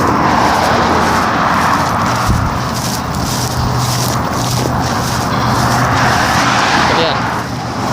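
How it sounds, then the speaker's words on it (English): Cars drive past one after another in a continuous roadside whoosh, with engines rumbling nearby and a person speaking over the traffic. "recording the sounds of cars drive by me"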